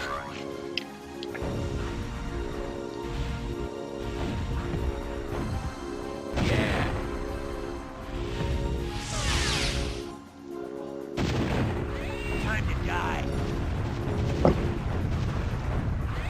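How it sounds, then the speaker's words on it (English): Explosions and gunfire crash continuously through a run-and-gun Contra video game, with layered booms, blasts and mechanical clatter filling the whole stretch at a loud, steady level. "Look at all this explosion."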